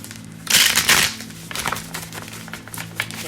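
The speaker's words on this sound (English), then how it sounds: "Okay, this deck doesn't really want to shuffle." A deck of tarot cards being shuffled by hand in bursts of riffling and crisp flapping, a loud flurry near the start followed by shorter scattered shuffles, close to the microphone with no talking.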